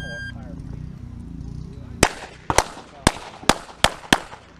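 Gunshots at a shooting range, six sharp loud reports in an uneven sequence following a stretch of quiet background, close to the listener.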